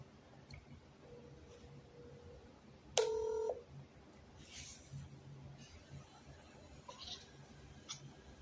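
A phone is dialed to call a listener, a short burst of touch-tone beeps standing out clearly over quiet background hiss, with a few faint clicks afterward.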